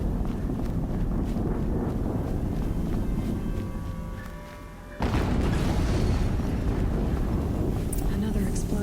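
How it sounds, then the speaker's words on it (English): An explosion in the video game Horizon Zero Dawn booms as a dense, loud rumble that dips briefly, then surges into a sharp, broadband blast halfway through and keeps roaring. "Another explosion."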